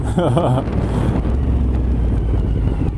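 A yellow Suzuki TL 1000 R motorcycle engine rumbles low and throaty while riding, with a rising rev near the start, then a steady drone buried in loud wind buffeting on the microphone.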